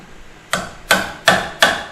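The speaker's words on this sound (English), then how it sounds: "That's the good chiseling is always small bits at a time." A chisel is driven into mahogany for a heavy door, four sharp mallet strikes in an even rhythm, close and loud, each with a quick decay.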